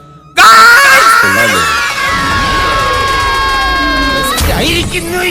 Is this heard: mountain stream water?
no